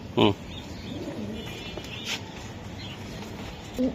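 A racing pigeon giving short, low coos, one near the start and another at the end, against quiet background noise.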